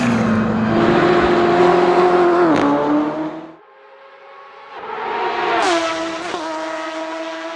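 A BMW M8 GTE race car, modded as the Bayro EGT in Assetto Corsa, roars at high revs with rising pitch and gear changes, drops away briefly, then climbs hard again, loud and close.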